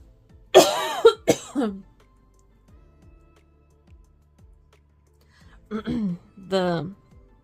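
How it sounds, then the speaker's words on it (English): A bout of coughing: two harsh coughs, a pause with faint sounds, then two more coughs, close and fairly loud. "Sorry, I had a coughing spell."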